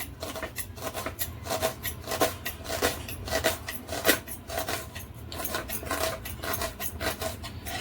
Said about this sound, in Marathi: आता आपण कांदे कापून घेऊया